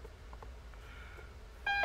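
A Mirage 2000 cockpit warning in the DCS flight simulator, heard as steady tonal beeping that starts abruptly near the end over a constant low engine hum, loud and close.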